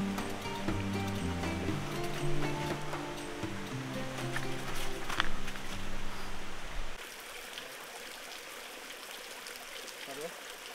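A flowing stream in the Bandarban hill wilderness of Bangladesh makes a steady, close, rushing hiss. It sits under voices and tonal sounds at first, then carries on alone.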